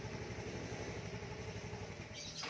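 A Yamaha Mio i 125 scooter started by remote, its engine idling steadily nearby with an even low putter throughout and no voices over it.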